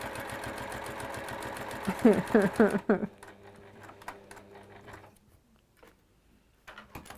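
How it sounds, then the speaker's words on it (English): A sewing machine chugs in quick rhythmic bursts, loud and close, then stops, leaving quieter mechanical ticks and faint motor hum. "she loves the chugging sound of a sewing machine"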